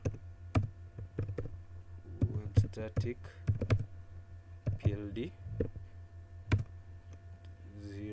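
Keystrokes on a computer keyboard while HTML headings are being typed, heard as scattered, close, fairly loud clicks in irregular bursts over a steady low hum, with a person speaking throughout.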